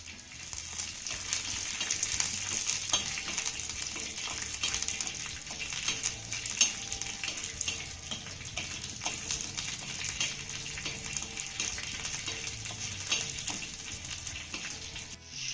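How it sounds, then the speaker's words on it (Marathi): Peanuts roasting in a little oil with garlic and green chillies give a soft, steady sizzle, with occasional light stirring clicks, fairly quiet and close. "यामध्ये आपल्याला थोडंसं तेल घालायचंय आणि हे शेंगदाणे मस्त असे खमंग खरपूस भाजून घ्यायचे"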